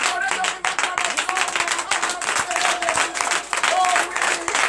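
A church congregation at a Tuesday morning prayer service claps and cheers, dense rapid handclaps with a few voices calling out, loud and continuous.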